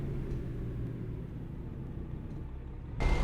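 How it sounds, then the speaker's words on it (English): Kenworth 100th Anniversary Edition truck driving in American Truck Simulator, a steady low engine rumble at even volume throughout that swells louder with a broadband lift right at the end. "I am driving the Kenworth 100th Anniversary Edition"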